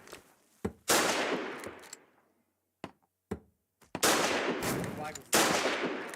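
Gunfire in the video game Foxhole: loud automatic bursts and single sharp shots break out in clusters, separated by short quiet gaps, then return as sustained rattling volleys near the listener.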